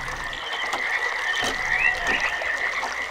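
Frogs croaking in the video game realMyst, a dense continuous chorus of raspy croaks heard close and steady with no talk over it.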